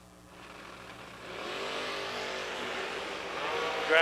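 Drag racing cars launch down the strip at a TB Promotions bracket event, a dragster chasing a car with a head start; engine roar swells from a low rumble into a loud, sustained broadband howl, with no talk.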